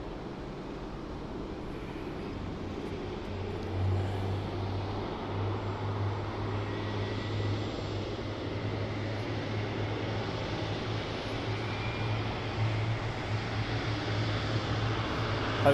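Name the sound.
TUI Dreamliner aircraft lining up on the runway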